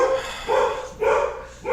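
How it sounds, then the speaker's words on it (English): A dog barks three times in an even rhythm, loud and close, with short pauses between the barks and no one speaking. "there's my dog barking right on cue"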